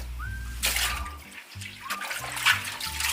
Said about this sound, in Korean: 찬물을 뿌려 열기를 식혀줍니다.